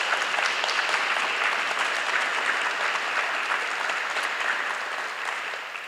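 Sustained applause from an audience at a poetry and art event, an even, continuous patter of many hands heard at moderate distance throughout.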